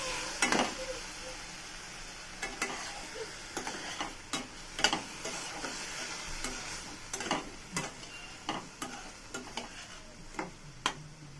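Paneer being stirred in a pan, a series of irregular spoon scrapes and clicks against the metal over a faint low sizzle, fairly quiet and close.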